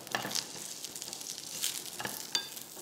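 Dried coconut pieces, garlic cloves and green chillies sautéing in a pan, a steady close sizzle with soft stirring scrapes and a few brief clinks, no voices.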